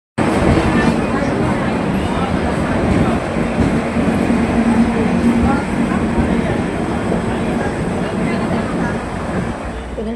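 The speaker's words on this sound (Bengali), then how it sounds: "আর এই ট্রেনটা কিন্তু এখনও থামেনি, ট্রেন এখনও আসতেই আছে" A Rajdhani Express rolls into the station at Siliguri, a loud, steady rumble of wheels and carriages that holds for the whole stretch, with faint voices on the platform beneath it.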